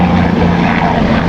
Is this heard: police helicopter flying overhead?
yes